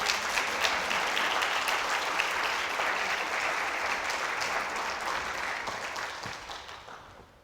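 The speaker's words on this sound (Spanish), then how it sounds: "¿Por qué no dan una ofrenda de palmas?" Loud, dense clapping from a church congregation fills the space, holding steady before gradually fading away at the end.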